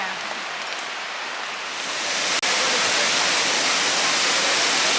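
Broad, steady roar of the upper waterfall at Gooseberry Falls on Minnesota's North Shore, rushing water filling the scene continuously and growing louder and nearer partway through, with no talk.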